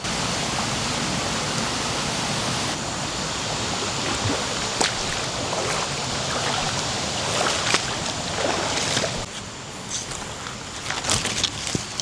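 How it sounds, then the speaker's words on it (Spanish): Steady rushing water roars loudly throughout, a broad continuous wash of falling water with occasional splashes and clicks near the end. "¿Cómo se llama esta cascada?"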